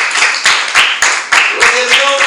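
A church congregation claps together in a steady rhythmic pulse of loud bursts, close by, with voices mixed in.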